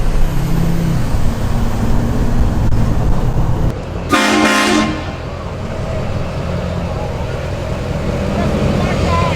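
At a truck show, a truck's loud train horn blasts once for under a second over the steady roar of idling diesel engines and crowd noise, close and dominant.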